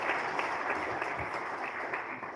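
Audience applause for a professor after a public lecture, a steady wash of many hands clapping at moderate distance, continuous through the short stretch without voices.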